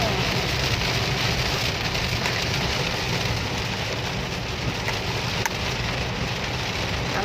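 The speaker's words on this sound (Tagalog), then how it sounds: "Ay, grabe, ang ulan." Heavy rain beats down steadily in a thick, loud roar of hiss and patter that holds even from start to finish, with one faint sharp tick partway through and no voices.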